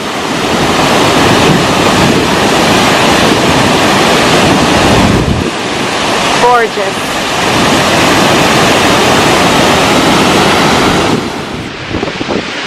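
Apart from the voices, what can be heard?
large waterfall, Nugget Falls near Mendenhall Glacier, Juneau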